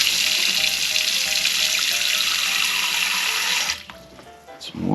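Water runs steadily from a newly installed residential kitchen faucet in an RV, a loud broadband hiss that fills most of the stretch before cutting off abruptly near the end, leaving only faint room noise.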